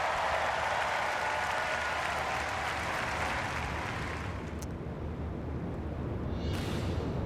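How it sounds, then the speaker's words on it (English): Sustained applause from a large convention crowd for the Kentucky governor at the Democratic National Convention, a loud dense wash of clapping that fades slightly toward the end. "you see the Vice President Kamala Harris with that last round of applause"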